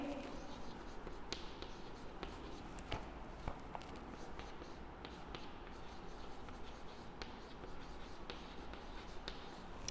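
Pen or pencil writing by hand on paper during a class lesson, with faint continuous scratching strokes and small taps against a quiet room background.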